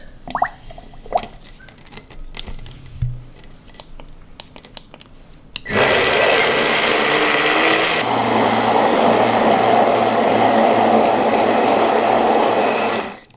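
After a few quiet kitchen clatters, a blender roars to life and whirs loudly and steadily for several seconds blending lemon curd before cutting off.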